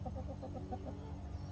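Backyard hens clucking during chicken chores, a quick run of short, repeated clucks close by, steady and fairly soft, with a low background rumble underneath.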